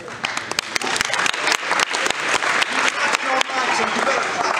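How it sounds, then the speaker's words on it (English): Loud audience applause at a football team event, dense sustained clapping from a crowd with sharp individual claps and some voices mixed in. "So you better clap it up."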